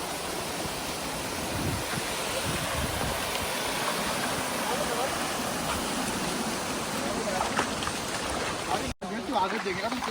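Rushing water from a large waterfall in Uttarakhand, a steady broadband roar that fills the scene throughout, loud and continuous, briefly cut near the end.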